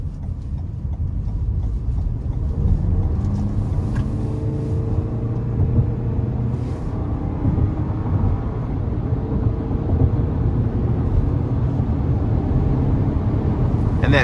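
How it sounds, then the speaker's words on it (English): A 2023 Toyota Highlander XLE with the 2.4-litre turbo four, in sport mode, pulls onto an interstate under light throttle. Its steady engine rumble is mixed with road and cabin noise and stays level throughout. "put it into sport mode. And I'm not gonna put my foot all the way to the floor, but I am gonna give it a little throttle"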